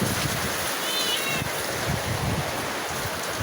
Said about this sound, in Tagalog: Biglang buhos ulit ng ulan. May kasamang hangin.